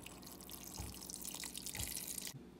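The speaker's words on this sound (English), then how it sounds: "I'm going to pour the water so that way it'll show full" Water poured over dry brown beans in a kitchen, a steady close splashing and dripping stream with a couple of dull knocks, cutting off abruptly near the end.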